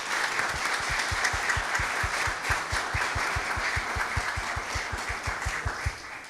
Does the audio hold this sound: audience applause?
yes